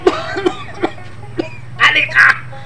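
A person coughs several times in short bursts, followed by throat-clearing and strained vocal sounds, close to the listener.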